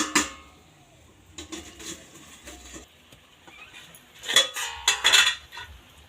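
A pan lid comes off a semolina breakfast dish after about ten minutes of covered cooking: a metallic clatter at the start, then a louder rattle and scrape toward the end, with quiet gaps between.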